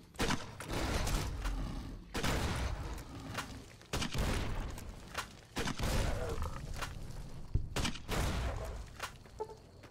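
Thump-Thump grenade launcher fired repeatedly in Fallout: New Vegas, sharp heavy launches a couple of seconds apart followed by booming explosions and rumbling debris, with game clatter between shots.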